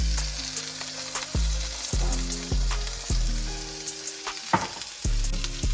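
A burger patty seasoned with pepper fries in a pan, giving a loud, steady sizzle with a few bright crackles and pops throughout. Alongside run some low-pitched tonal sounds that rise and fall, with no speech.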